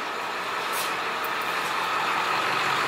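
A truck nicknamed Big Dirty warms up outside, its engine holding a steady broadband rumble at moderate distance with no break and no talk over it.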